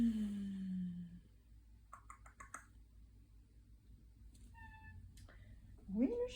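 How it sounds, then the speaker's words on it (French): A domestic cat meows indoors, a few short, fairly quiet cries spread across the moment against a low background hum, with light clicking sounds in between and no talking. "J'ai mon chat qui miaule tout le temps."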